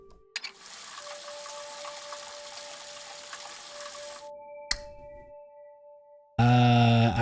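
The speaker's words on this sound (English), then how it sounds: "The shower." A shower runs in the video game Crow Country: a steady hiss of falling water that stops abruptly, followed by a lingering tone and then a loud burst of game sound.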